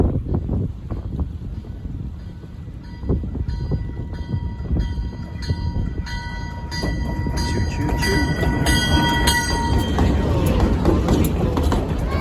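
The historic Durango to Silverton narrow-gauge mountain train, a Rio Grande line, rolls past close by with loud rumbling, clattering wheels and squealing metallic tones, and the noise builds as it passes amid wind buffeting and brief talk.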